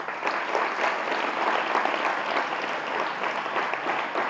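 A room full of students claps loudly and steadily right after a guided meditation session, the applause close and continuous with no pause.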